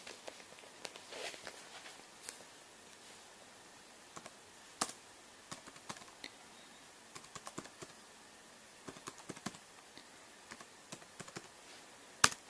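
Card details typed on a computer keyboard, a run of scattered sharp key clicks, irregular and close, fairly quiet, with a few louder taps and no talking.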